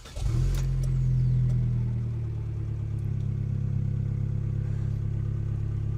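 An Abarth 595 engine fires up with a sharp catch and quick rev, then settles into a steady, throaty idle close by, with no talk over it.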